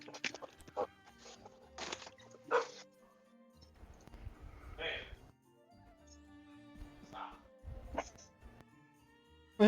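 Dogs bark in scattered, fairly faint bursts mixed with whiny, bleating yelps and whimpers, spread unevenly across a quiet stretch with a louder hit at the very end.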